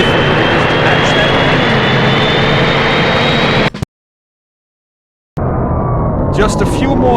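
Loud, steady jet engine roar from an airplane in the PS1 racing game 007 Racing, a dense continuous wash that cuts out abruptly to silence for over a second, then returns somewhat thinner with brief higher bursts near the end.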